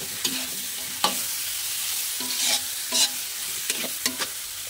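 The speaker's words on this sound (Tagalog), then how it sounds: "Haluin na natin." Shrimp and squid are stir-fried in a pan: a soft, steady sizzle broken by several sharp spatula knocks and scrapes at irregular intervals.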